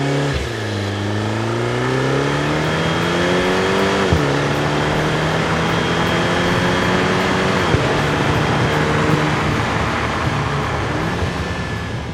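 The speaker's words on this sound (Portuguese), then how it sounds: "Isto tudo acompanhado por uma sonoridade de escape de veras cativante." Exhaust note of an Alfa Romeo MiTo Quadrifoglio 1.4 turbo with TCT gearbox in Dynamic mode, a loud, steady engine drone rising through the revs with quick gear changes while driving, heard from close by.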